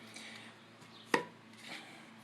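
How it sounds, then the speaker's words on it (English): A single sharp plastic click as the cap comes off a 100-gram JetBoil fuel canister, close and quiet, with faint handling rustles before and after. "And I'll just take the plastic cap off of that for now."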